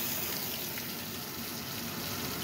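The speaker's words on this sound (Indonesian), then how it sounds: "Kita goreng sampai ikannya kuning ya, teman-teman." Red fish frying gently in a small amount of oil in a pan, giving a steady, dense sizzle that holds at an even level throughout without pause.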